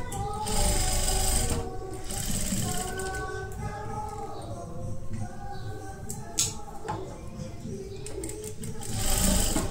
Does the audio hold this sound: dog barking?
no